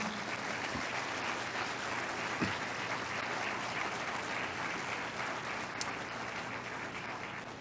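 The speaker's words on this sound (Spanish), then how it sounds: "eso merece un aplauso al Señor" Steady applause from a large crowd at a sermon fills the space, a dense continuous patter of many hands clapping without pause.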